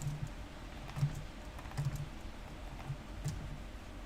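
Steady clicking of a computer keyboard as someone types code, the light keystrokes coming in quick irregular bursts, close and moderately quiet, with no talking.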